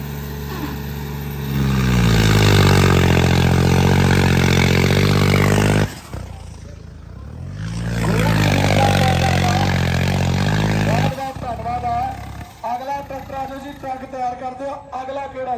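A modified tractor roars hard under full load in a tractor pulling contest at a rural Punjabi fair, a loud droning engine with rising revs, broken by a brief drop before surging again, then crowd noise and a voice.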